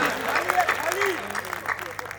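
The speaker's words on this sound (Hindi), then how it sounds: "ताली बजाइए, मेरे पैसे सीधे हो जाएंगे।" An audience at a Hindi poetry recital breaks into applause, a soft wash of clapping heard under a man's continuing speech.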